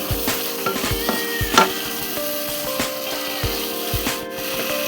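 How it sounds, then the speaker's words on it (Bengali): A spoon stirs arum stalk curry in a pan, producing repeated scraping and rubbing strokes against the pan at an uneven rhythm, close and moderately loud. "একটু নেড়ে দেবো।"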